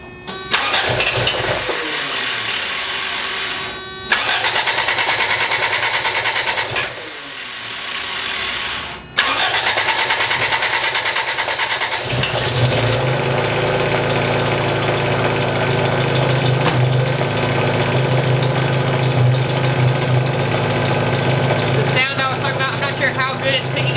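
An old $500 project car's engine cranks and starts several times, cutting out in between, then catches and settles into a loud, steady idle with a ticking from the timing belt cover.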